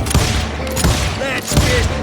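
Rapid gunfire from a crowd of hired gunmen in the Western video game Call of Juarez: Gunslinger, several loud close sharp shots and bursts spaced through the moment.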